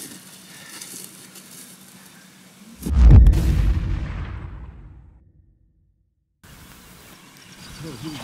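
A loud shotgun volley from hunters in a dry-land field during a duck and goose hunt, a few close booms merging into one heavy blast that rings out and fades into near silence, with faint voices around it.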